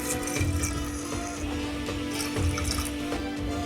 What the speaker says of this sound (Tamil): இதில் ரெண்டு டம்ளர் தண்ணி ஊற்றிக்கலாம்